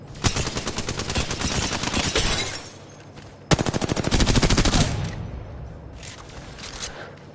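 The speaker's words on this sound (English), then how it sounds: "Try shooting something" Rapid automatic gunfire from shooting in the Apex Legends video game, two sustained loud bursts of dense rapid shots separated by a brief lull, with quieter fading shots near the end.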